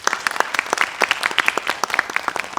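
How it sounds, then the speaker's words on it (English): Brisk audience applause for judges at a medical review event, dense overlapping claps filling the room steadily and fairly close, without talk. "can we have a round of applause,"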